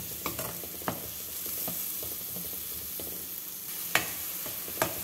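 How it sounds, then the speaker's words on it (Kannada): Green peas being stirred with ground spice powder in a pan, a steady soft sizzle broken by sharp scraping taps of the spoon against the pan, close by with no voices. "ಈಗ ಇದನ್ನು ಚೆನ್ನಾಗಿ ಮಿಕ್ಸ್ ಮಾಡ್ಕೊಳ್ಳೋಣ"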